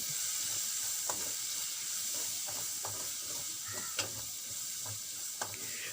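Dry spice masala and salt are stirred together for chilli bajji, giving soft, sparse scraping taps over a faint steady hiss, quiet and close, with no talking.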